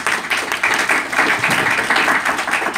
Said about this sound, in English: Another round of applause for Hector.